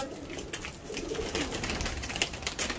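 A pigeon coos softly at close range amid light background noise, with no voices.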